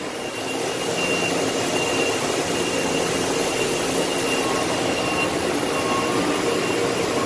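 Makino A88 machining center spindle turning at 1,000 RPM, a loud continuous broadband whooshing roar with faint steady tones, unchanging throughout.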